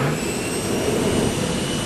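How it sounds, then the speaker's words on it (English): Jet engines and whirling propellers roar across an aircraft carrier flight deck, a loud, continuous broadband howl with steady low rumble and high whine, no pauses, filling the whole moment. "a deafening hurricane of noise generated by whirling propellers, jet engines, and sudden gusts"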